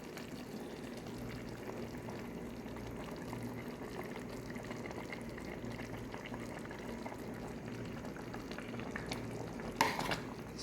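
Egg stirred into a simmering pot of lomi noodle soup makes a steady bubbling, swirling sound, quiet and continuous, with a brief louder scrape near the end.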